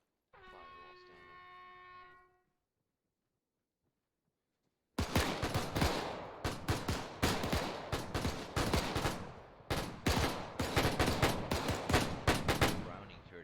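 A Browning .30 caliber machine gun in a World War 2 training game fires loud, sharp bursts of rapid shots, with short gaps between volleys. Before the firing there is a brief steady horn-like tone, then silence.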